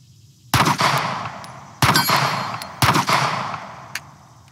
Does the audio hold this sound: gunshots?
yes